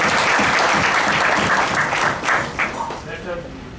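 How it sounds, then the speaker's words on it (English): Audience applause at the close of a vote of thanks at a formal program, a loud, dense burst of clapping that fades slightly toward the end. "I would like to end my vote of thanks with a grand applause for everyone present here."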